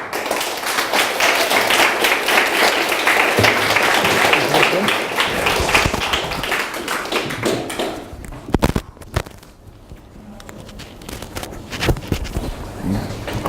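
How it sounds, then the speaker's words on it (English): Audience applause for a presenter taking the stage at a coding bootcamp demo day in Tokyo, a dense steady wash of clapping that thins out toward the end, with scattered louder claps and a voice starting to speak. "Give him a round of applause"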